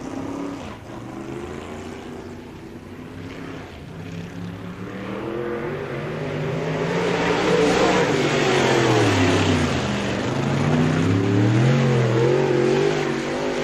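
A race car on a qualifying lap at Spoon River Speedway, its engine rising from a distant drone into a loud, close roar, with revs climbing and falling as it passes and circles the track.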